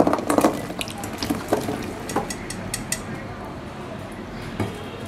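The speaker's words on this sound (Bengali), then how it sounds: "এবার এই চালতাটাকে আমি একটা প্যানের মধ্যে দিয়ে দিচ্ছি" Elephant apple fruit, pre-soaked, goes into a pan with a few clattering knocks against the metal, followed by softer splashing and sloshing water sounds.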